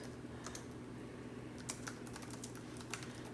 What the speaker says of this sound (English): So you can type in messages